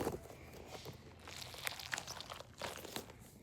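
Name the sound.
cheese-shaped foam squishy toy being squeezed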